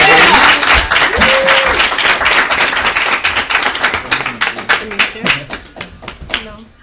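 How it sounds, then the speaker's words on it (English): Audience applause and clapping for a DJ performer being introduced on a talk show, dense and loud at first, then thinning into scattered individual claps toward the end, with voices mixed in. "Clap it up for her, baby."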